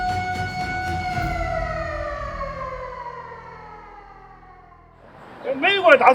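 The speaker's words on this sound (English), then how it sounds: "air raid sirens blared across the city" A wailing World War II air raid siren sounds across a city, a long, slowly descending tone that fades away, then voices begin speaking loudly at the end.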